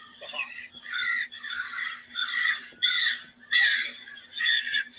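Several crows caw loudly and agitatedly in repeated harsh bursts on a residential street, gathered around a dead crow that fell from the sky, with a faint steady hum beneath.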